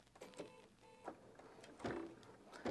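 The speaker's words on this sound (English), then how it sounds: "tell the machine we want to stitch it out" A Bernina 790 Pro sewing machine stitches an embroidery or quilting design, faint mechanical whirring with periodic motor surges and clicks, close but quiet with no talking.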